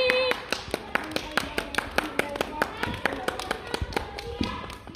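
A group of kindergarten children clap their hands in a fast, steady series of sharp claps that fade slightly near the end, with voices talking over them.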